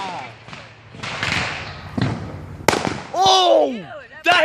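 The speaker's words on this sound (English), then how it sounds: "The fireworks were going." Backyard fireworks set off by amateurs, several sharp bangs and pops in close succession at near range with crackling bursts, while excited voices shout and talk loudly over them.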